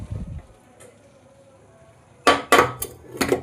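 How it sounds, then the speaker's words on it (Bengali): Chickpeas drop into a pan of browned chicken curry with a short cluster of clattering knocks against the metal, after a quiet stretch with faint low rumbling. "এই পর্যায়ে কাবলি ছোলাগুলো দিয়ে দিলাম"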